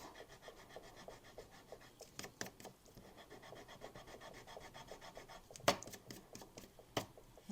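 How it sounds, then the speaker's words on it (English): A sand eraser rubbing on card paper during card making, a soft, close scratchy scrubbing in quick back-and-forth strokes with a few louder scrapes. "I do have a sand eraser. I'm going to try to take some of that off."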